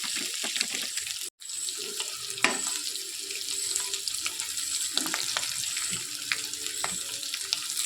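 Masala-coated pieces frying in oil in a pan, a steady close sizzle and crackle running throughout, with occasional clinks and scrapes as the pieces are turned over.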